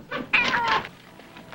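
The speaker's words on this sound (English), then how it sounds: "Is that your cat?" A cat meows several times in quick succession, clear and fairly close, then fades to quieter background sounds in an indoor setting.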